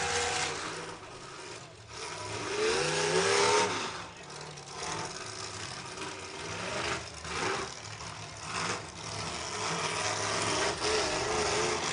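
Demolition derby cars rev and growl in a noisy outdoor arena. Engines rise and fall beneath a constant wash of crowd and ambient noise, fairly loud and rough throughout.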